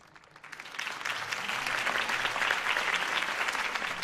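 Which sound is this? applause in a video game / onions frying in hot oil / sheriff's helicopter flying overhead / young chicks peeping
applause in a video game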